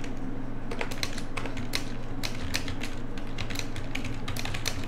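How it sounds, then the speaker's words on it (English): Rapid, irregular crinkling and clicking taps over a steady low background hum, continuous and fairly close, during a session of the card game Gods Unchained. "We got some crinkling sound."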